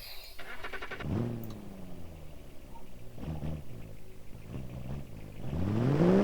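A BMW driven in the BeamNG.drive driving simulator, its engine note rising and falling through several revving pitch sweeps, loudest at the end, over a steady mechanical hum.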